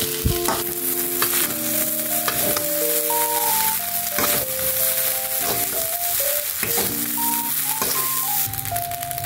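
Continuous sizzling of Indonesian fried rice frying in a wok over low heat, with scraping stirs and clanks of a spatula throughout, while background music plays.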